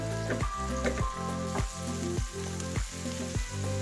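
Banana blossom sizzling hard in a hot pan for chicken wings adobo, a steady loud crackle of frying oil with rhythmic scraping strokes about every half second, no voices.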